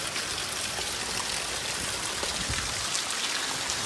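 Heavy rain pours down steadily, a dense broadband hiss of drops and runoff that stays loud and even throughout with no voices.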